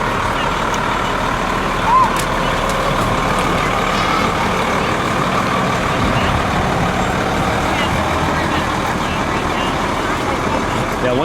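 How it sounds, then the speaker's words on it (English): A Freeport Fire truck rolls slowly past in a summer parish festival parade in Freeport, Minnesota, its engine a close, steady rumble with a brief chirp early on and people talking nearby. "Final Freeport Fire truck in the parade today."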